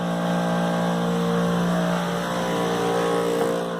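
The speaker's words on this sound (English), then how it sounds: "Humidifier, sorry." A household humidifier runs in a home under renovation, giving off a steady, droning motor hum with a buzzing tonal edge. It stays loud, close and unchanging throughout, with no voices over it.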